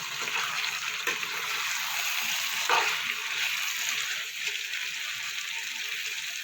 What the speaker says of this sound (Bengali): মশলার সাথে আলুটা আমার ভালো করে কষানো হয়ে গেছে এবার আমি জল দিয়ে দেবো